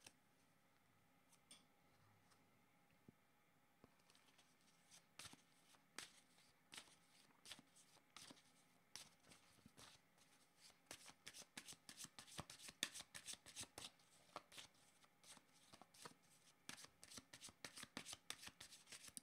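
Tarot cards being shuffled by hand, starting with sparse soft taps and slides and building into a quick, crisp run of riffling flicks, close and quiet, with no talking.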